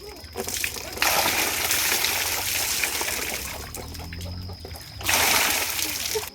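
Deep floodwater sloshes and splashes close by, with surges of heavier splashing at the start and near the end, with people talking over it.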